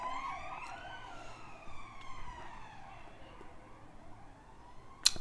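An ambulance siren wails in rising and falling sweeps, fairly faint and somewhat distant, over low background rumble with a brief sharp knock at the end.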